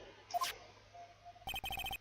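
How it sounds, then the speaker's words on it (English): A cellphone ringtone from the Phoenix Wright: Ace Attorney Justice for All game plays as a rapid series of bright, evenly spaced electronic beeps, following a brief chime and a soft tone. "what is this stupid sounding ringtone?"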